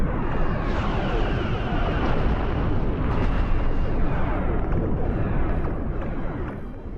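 A nuke explosion in the spaceship game Star Trek: Cosmoteer, a loud rumbling blast with crackling debris that rolls on for several seconds and slowly fades.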